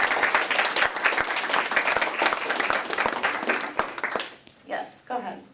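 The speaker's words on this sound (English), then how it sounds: "Oh, you can clap first." An audience claps loudly after a lecture on zombies in American culture, the dense applause lasting about four seconds before dying out as a voice begins speaking.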